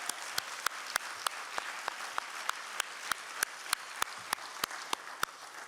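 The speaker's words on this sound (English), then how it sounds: "Please join me in another round of applause" At an arts and public policy lecture, a small audience claps after a live performance, sparse and evenly spaced sharp claps standing out over a soft room background.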